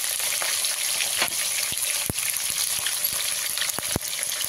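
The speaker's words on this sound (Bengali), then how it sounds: "ওই তেলেই আমি আলুগুলো ভেজে নেব" Potato pieces frying in hot oil for a Bengali chicken curry, a loud continuous hiss and sizzle close up, broken by a few sharp clicks of a utensil.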